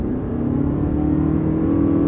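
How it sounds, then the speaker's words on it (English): A car engine with a CVT transmission revs high and steady at full throttle, a sustained droning whine that holds one pitch throughout. "you can hear it's revving high the whole time until you take your foot off the gas"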